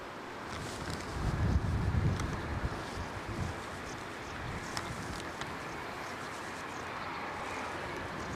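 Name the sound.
strong wind buffeting the microphone at an airport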